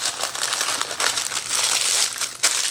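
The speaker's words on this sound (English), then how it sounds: "I'm just going to wrap these up in some parchment paper" Parchment paper crinkles and rustles as breakfast sandwiches are wrapped by hand, close and continuous, with irregular crackling bursts and no talk.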